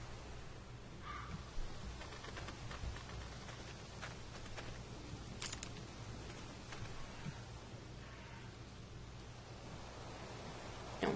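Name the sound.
bird cawing in The Walking Dead video game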